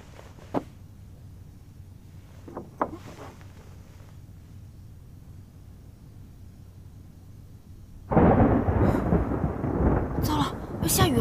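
Thunder from an approaching rainstorm: a few scattered faint clicks over near-quiet air, then a sudden loud, broad rolling rumble that keeps going to the end.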